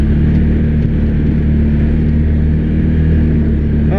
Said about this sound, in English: side-by-sides are so much smoother running through the woods than an ATV